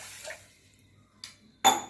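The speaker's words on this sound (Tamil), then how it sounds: "பெரிய கிளாஸில் 2 கிளாஸ் தண்ணி ஊற்றிடுங்க." Water splashes into a cooking pot while preparing ullundhu kanji, a urad dal porridge: brief close pours with a faint clatter, separated by near silence, ending in a louder splash.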